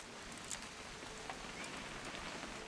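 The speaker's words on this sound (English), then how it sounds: "It's gonna rain the whole weekend" Soft, steady rainfall patters as quiet ambience in the video game What Remains of Edith Finch, an even hiss of drops with a few faint tapping accents and no voices.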